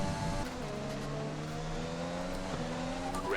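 A Formula 1 car in the F1 2020 racing game at the Belgian Grand Prix, its engine screaming at high revs with steady rising tones and a quick gear-change dip near the end, loud and continuous.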